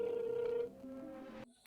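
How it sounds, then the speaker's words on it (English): A telephone rings on a call to a customer service number. A single steady ring tone is heard through the handset for about half a second before it cuts off, quiet and brief. "It's ringing."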